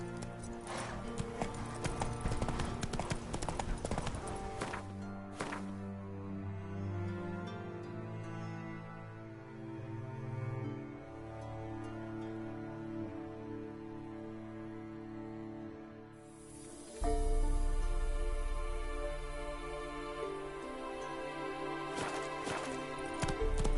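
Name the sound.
horse hooves trotting in The Witcher 3 video game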